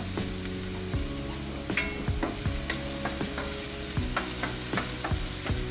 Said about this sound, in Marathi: आनियन भाजून पळय गोल्डन ब्रावन जाला